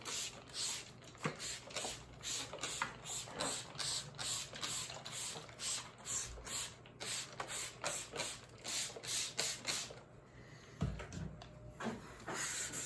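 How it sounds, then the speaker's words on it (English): A 1984 Corvette hood is wet sanded with 1200 grit sandpaper, giving a rhythmic back-and-forth rasping swish in steady strokes, close and fairly quiet, with no talk. "Using 1200 grit sandpaper. Just to make it nice and smooth."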